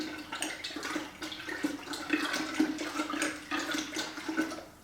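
Water gushes and splashes into a container to dissolve washing soda for homemade laundry detergent. The pour is a continuous, fairly close rush with uneven surges and no voices.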